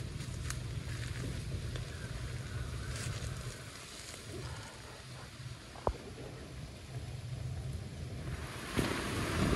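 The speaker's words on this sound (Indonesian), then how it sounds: "Anginnya mulai kencang lagi dan awan makin pekat." Strong wind at a beach campsite, a steady roaring rush buffeting the microphone with low rumble and faint surf beneath, one sharp knock midway, no voices.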